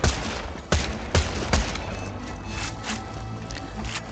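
Three loud gunshot bursts from the Slagger gun in Borderlands, spaced about half a second apart, each a sharp crack with a short tail, followed by quieter game ambience with faint distant pops.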